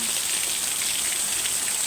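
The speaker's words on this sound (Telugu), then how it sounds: "వర్షం చూడండి వడగల వానలాగా కురిచేస్తుంది" Dense, steady hiss of heavy rain with hail falling hard and continuously in West Godavari, coastal Andhra, with a high whine running through it, no voices.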